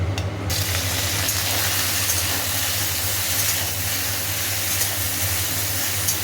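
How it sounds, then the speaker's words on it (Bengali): Half-boiled okra goes into hot oil tempered with dry red chilli, fennel and nigella seeds, giving a sudden loud, steady hiss and sizzle that runs unbroken throughout, with a low hum underneath. "এবার ঢ্যাঁড়সগুলো সেদ্ধ করা আছে হাফ, এগুলো দিয়ে দেবো"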